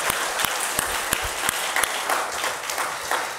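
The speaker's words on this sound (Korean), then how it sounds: "우리 격려의 박수 한번 하겠습니다" A church congregation claps in encouragement during a Sunday morning service, a continuous roomful of applause with a few sharper individual claps standing out.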